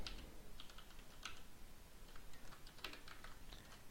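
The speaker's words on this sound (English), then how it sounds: "Then we're going to type" Keys clatter on a computer keyboard in short irregular bursts, close and fairly quiet, with no voices.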